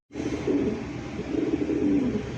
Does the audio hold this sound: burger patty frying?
no